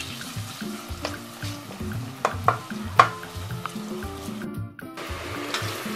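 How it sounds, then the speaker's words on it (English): Bacon cooks with onion in butter for savoury rice, sizzling and crackling steadily up close while a utensil knocks and scrapes the pan in repeated irregular strokes. "I cook my bacon with the onion in the butter."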